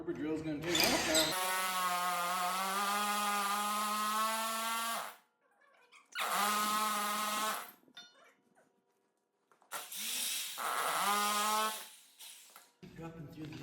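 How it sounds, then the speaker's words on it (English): A Harbor Freight drill boring a hole for a two-post car lift installation, whining loudly in long sustained bursts separated by pauses, with brief gaps of near silence between runs. "Harbor drill's gonna take off now."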